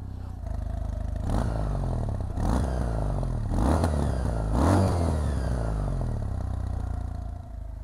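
A Kawasaki W800 motorcycle engine idles with a steady thump, and the throttle is blipped four times in repeated bursts, each rev rising and falling back to idle.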